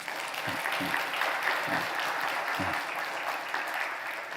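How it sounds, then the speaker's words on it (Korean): A church congregation applauds steadily, many hands clapping together in a sustained wash of sound from a large room. "그렇다고 생각하시면 박수 한번 쳐보세요. 박수."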